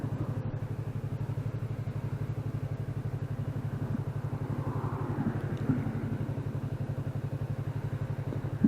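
Honda sport motorcycle engine drones at steady high revs during a ride, a continuous loud buzzing hum with a fast regular pulse throughout, plus faint wind rush and no voices.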